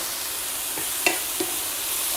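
Minced meat frying in a pan with a soft steady sizzle, broken by a couple of brief scraping stirs of a utensil against the pan; no talking.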